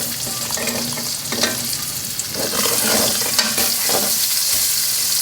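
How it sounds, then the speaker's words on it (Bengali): Onions frying in hot oil for beresta give a dense, loud sizzle with bursts of crackling and a few stirring scrapes, steady throughout with no voices. "তেলের মধ্যে বেরেস্তা তুলতে হবে"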